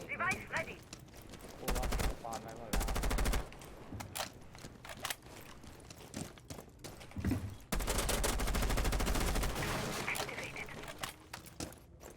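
Gunfire in the video game Rainbow Six Siege: dense bursts of rapid automatic shots and single cracks come in waves, loud and sustained at times, while players talk over the shooting.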